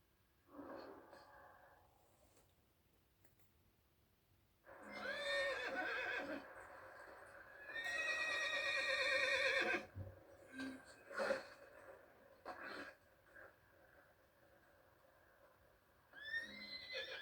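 A horse in the video game Red Dead Redemption 2 gives two loud, drawn-out whinnies with snorts and breathy sounds between them, followed by a short whinny at the end, against a quiet background.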